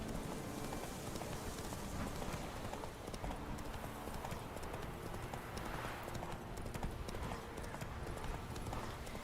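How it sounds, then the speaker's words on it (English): Rapid horse hoofbeats in The Witcher 3: Wild Hunt clatter continuously in a fast galloping rhythm, faint and steady under a wash of noise, with no pauses. "I gotta not screw up while riding my horse."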